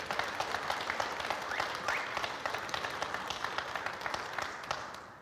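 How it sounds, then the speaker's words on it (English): Dense, steady applause from an audience at a 10-ball pool final of the Dynamic Billard European Championship, many hands clapping continuously and fairly close throughout. "And here you hear the applause"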